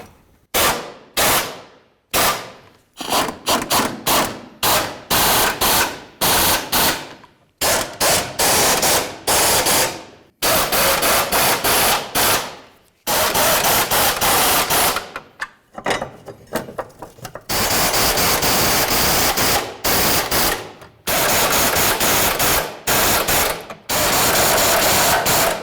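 A wrench works repeatedly on bolts of a Jeep Liberty fuel tank, giving loud, close bursts of rapid ratcheting and whirring separated by brief pauses, some bursts running several seconds.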